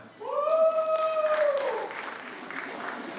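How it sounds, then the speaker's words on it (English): Cheering and applause from an audience at the 2014 NH Scholastic Arts Awards, with a bright whoop or whistle rising over the clapping, then the crowd noise settling to a steady, quieter patter. "She's got a cheering in the audience"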